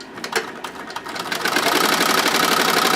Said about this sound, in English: we have the single head SWF machine that we're using